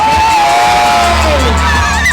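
A crowd at a rap show shouts and cheers loudly and continuously, with whoops and sustained yells rising over a dense roar.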